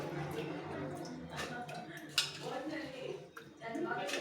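Soaked dal goes into a pressure cooker with light clinks and knocks of metal pots and utensils, close and fairly quiet, under a person talking.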